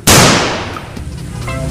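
A toy sniper rifle fires a single sharp, loud crack that rings out and decays over about a second.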